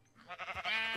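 A single sheep bleat from Minecraft, a short wavering baa that swells and holds, close and clear with no talk over it.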